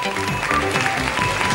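A TV studio audience on a French variety show applauds a singer in a short, full burst of clapping that is mixed with music and voices.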